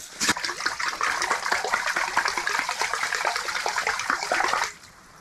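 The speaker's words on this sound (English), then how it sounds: "Maybe they'll hear the running water." Water runs steadily at an ice-fishing sight hole in back country, a close, splashy, continuous flow that stops abruptly near the end.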